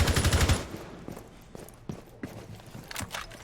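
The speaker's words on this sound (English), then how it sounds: "We're going to hear some gunfire from Zofia." A rapid burst of gunfire opens in a tactical shooter match, followed by scattered distant shots and footstep-like thuds under the game's ambience.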